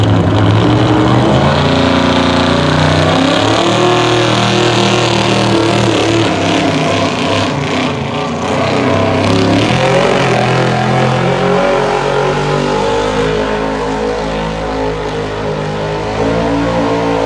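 Loud, continuous roar of a big Ford pulling truck engine under heavy load at a tractor pull, droning and revving steadily throughout at close range.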